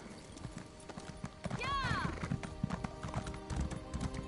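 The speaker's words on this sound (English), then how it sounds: "Get on your horse." Rhythmic clip-clop of a horse's hooves in a video game set in Vvardenfell, with a horse whinny rising briefly in the middle, under background game sounds and some talk.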